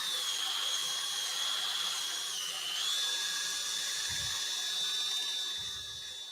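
A yew wood vase spins on a lathe while being sanded with 400 grit paper, giving a steady, faint high whine with a soft hiss throughout and a couple of low thumps.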